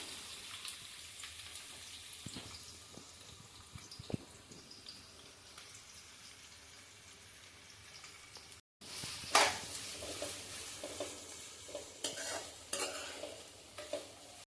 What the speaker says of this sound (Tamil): இப்போ நம்ம வெங்காயத்தை ப்ரௌனாக வறுத்து எடுத்துக்கலாம்.